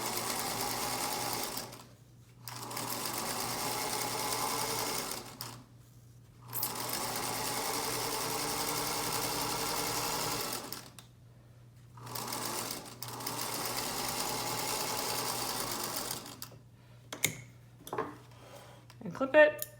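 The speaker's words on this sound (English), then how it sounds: "And then we're just gonna sew all the way down to our point." A sewing machine stitches a seam down a strip of bias binding for a quilt, running in several steady bursts separated by short pauses, loud and close, with a few clicks and handling noises at the end.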